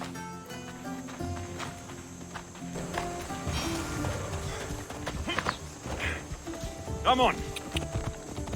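Horse hooves in the video game Assassin's Creed Odyssey: a steady clip-clop of a ridden horse, moderately close, under people talking and soft background music.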